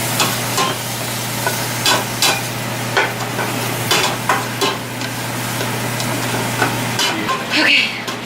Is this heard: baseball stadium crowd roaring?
no